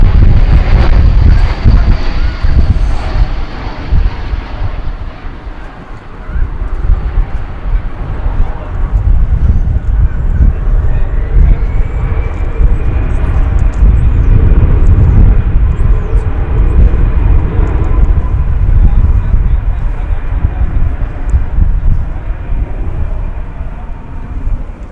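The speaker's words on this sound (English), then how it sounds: "The Viva Aerobus is going to be an Airbus A330" A Viva Aerobus Airbus A330 arriving at DFW airport, a loud sustained roar with heavy wind buffeting on the microphone that eases slightly midway, then a steady jet whine that holds to the end.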